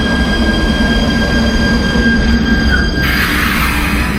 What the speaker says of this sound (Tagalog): Yung train, linya 18 papuntang Bon.